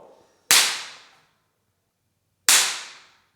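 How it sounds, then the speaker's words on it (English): A motor capacitor charged at full power and detonated with a screw, two sharp, loud cracks about two seconds apart, each snapping out and fading quickly into silence. "finally I'm going to charge it at full power and then detonate it"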